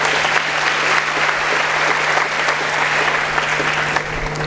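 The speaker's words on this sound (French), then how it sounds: "Ça mérite des applaudissements." Steady, dense audience applause fills the room in honour of Momar Nguer, the first African to join Total's executive committee, loud and continuous throughout with no talking over it.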